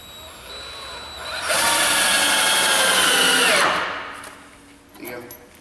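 A power drill drives screws to fasten a fixture down in a shop fit-out. There is one loud, close, sustained whir of about two seconds that winds down, followed by quiet handling noises.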